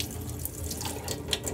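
Water runs steadily from a sink faucet during a surgical hand scrub before an operating room, a continuous close hiss and splash with no talk.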